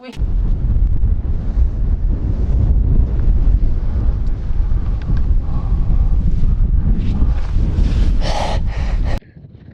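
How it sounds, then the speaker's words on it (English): Strong wind on Aconcagua at Camp 1 buffets the microphone in a continuous, loud roar with gusty surges, then drops off abruptly at the end. "It's incredibly windy here"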